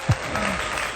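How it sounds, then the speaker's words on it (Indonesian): Applause fills the moment, a brief burst of crowd clapping that holds steady for about a second with no talk over it. "Aduh, tepuk tangan dulu"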